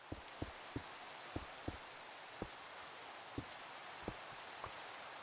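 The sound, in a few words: rain in the video game Minecraft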